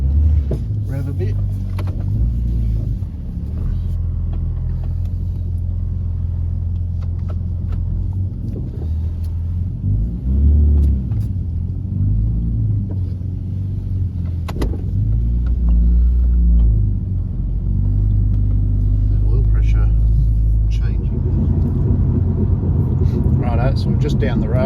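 A Ford Falcon XR6 (FG) drives around the block, its engine humming low and steady with a few mild revs rising and falling, heard from inside the car while someone talks throughout.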